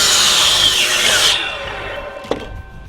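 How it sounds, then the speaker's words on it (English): A miter saw makes a 45-degree angled cut through wood: a loud high whine of the blade biting for about a second and a half, then winding down, with a short knock near the end. "The nice thing about having a miter saw is you can make 45-degree angled cuts."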